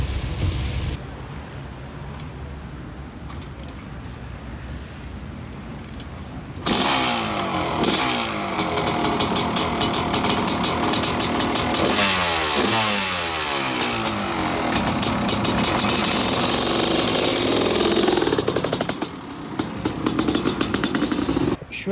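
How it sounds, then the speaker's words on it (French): A Honda CR500 two-stroke motorcycle starts on black sand, crackling and revving hard close by, its engine note rising and falling over a sustained loud run before cutting off near the end. "suis allé démarrer la moto"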